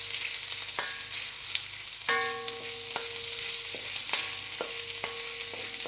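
Onions and garlic sizzling in a pan while being stirred, a continuous quiet fry broken by intermittent scraping and clinking strokes of the utensil.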